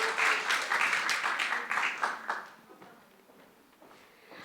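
Audience applause at a Sunday church gathering as a speaker is welcomed, a burst of clapping that fades out after a few seconds into quiet room tone.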